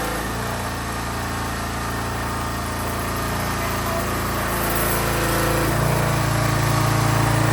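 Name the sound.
pressure washer engine running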